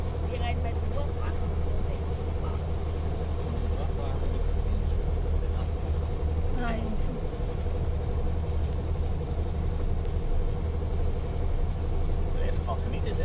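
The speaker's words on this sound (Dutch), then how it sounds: "Je rijdt met een vrachtwagen." A truck serving as an expedition RV rumbles through a cave, its engine a steady loud low drone throughout, with people talking over it.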